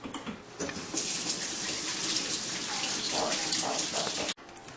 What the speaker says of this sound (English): First you have to wash your hands.